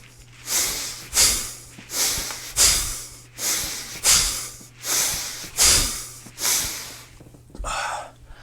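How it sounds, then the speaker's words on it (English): Forceful rhythmic breaths, about eight in a row at roughly one per second, each a sharp hissing exhale timed to kettlebell swings, close and clear with a faint steady hum underneath. "You hear that breath."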